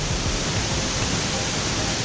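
Waterfall at Gorge Falls in the Tallebudgera Valley, a steady, loud, broadband roar of falling water with no breaks, close by and filling the whole clip without any voices.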